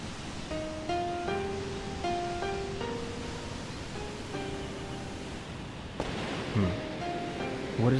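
Steady broadband rushing of a waterfall in the Shenmue 2 video game, a constant wash of water noise under soft melodic background music, with a brief louder swell near the end.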